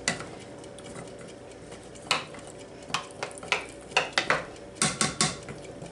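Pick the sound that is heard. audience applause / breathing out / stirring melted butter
stirring melted butter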